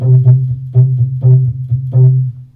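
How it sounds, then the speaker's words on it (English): An electric guitar runs through a custom envelope filter modeled on a DOD FX20B and set to high-pass mode. It plays short, punchy, rhythmic low notes up close with a thick, filtered tone and no talking over it. "custom envelope filter that is loosely or more so based on a DOD FX20B. And it sounds something like this in the high pass mode"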